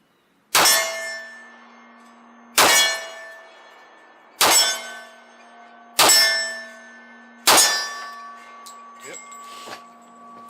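Five shots from a 10mm 1911 pistol each ring out as a sharp metallic clang of bullets striking a steel target 20 yards off, spaced about two seconds apart, each ring fading slowly.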